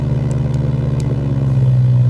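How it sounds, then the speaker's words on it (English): A loud synthesized petrol engine drone with a low pulsing hum and a rising pitch toward the end, like a small motor idling and revving slightly. "there's some parabolic pulses which kind of model a petrol engine"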